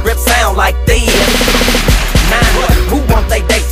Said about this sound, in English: Click my pistol grip, sound like this.